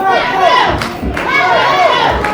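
A wrestling crowd at a Valor Wrestling show cheers and shouts loudly throughout, with rising voices and a few dull thuds from the ring.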